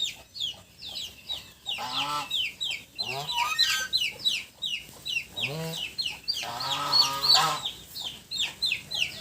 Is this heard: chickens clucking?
yes